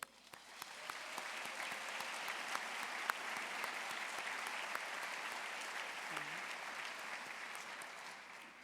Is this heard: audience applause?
yes